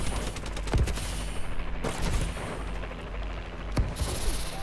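Gunfire rattles through a Call of Duty Advanced Warfare Domination match, with a dense, continuous stream of shots and several sharper cracks standing out over the steady clatter.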